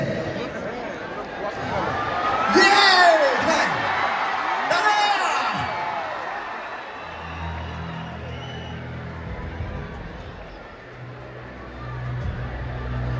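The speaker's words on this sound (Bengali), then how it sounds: "যতজনে ছাদ ফাটানো হাততালি হবে সব এভরিওয়ান।" A big crowd at a film star's anniversary stage event claps and whoops, loudest early on with sharp shouted cheers, then settling into steadier applause and murmur.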